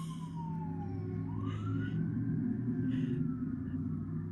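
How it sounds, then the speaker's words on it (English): Emergency vehicle sirens pass by outside, a wailing tone sweeping down then rising again over a steady low traffic rumble, moderately distant and continuous throughout. "I had to let the sirens go by"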